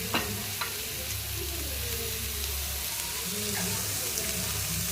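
Raw banana slices frying in hot oil, a constant bright sizzle with a few soft clicks as pieces are turned, and a low background hum underneath.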